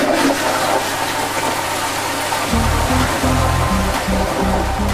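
A toilet flushes in a loud, close rush of water that roars steadily, then gives way to a gurgling, pulsing refill as the bowl drains, with no voices over it.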